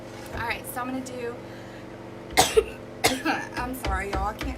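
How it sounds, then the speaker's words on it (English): A person coughs in a couple of sharp, loud bursts, with speech before and after the coughs. "I can't stop coughing."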